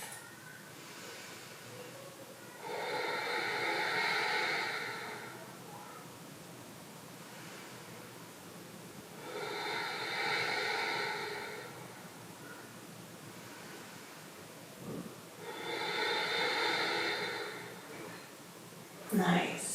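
Slow, deep breaths held in a yoga pose, three long rushing exhalations spaced evenly with quiet pauses between, close and airy.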